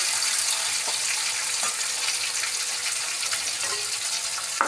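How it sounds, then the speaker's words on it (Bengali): Chopped tomato fries in oil in a pan for a cauliflower malai curry, giving a steady close sizzle with a few soft scraping clicks as it is stirred. "এবারে টমেটোটা একটু নেড়ে চেড়ে ভাজা ভাজা মতো করে নিই"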